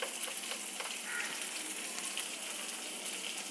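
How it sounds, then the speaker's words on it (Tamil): Sliced onion and vegetables with salt sauté in a pan, giving a steady, close sizzle and crackle with no pauses or talk. "இப்போ நல்லா வதக்கி விட்டுடலாம்"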